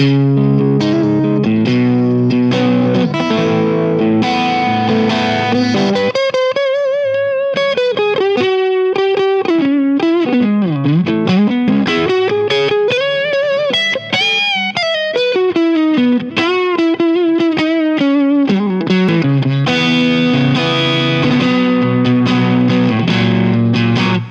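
An electric guitar with single-coil pickups plays through a Boss DS-1 distortion pedal, loud and sustained with thick crunchy chords giving way to a wavering lead line with bends, then back to chugging chords, with no talking.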